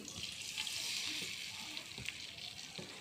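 Martabak batter hits a hot pan and sizzles, a bright, steady frying hiss with a few soft clatters from the cook.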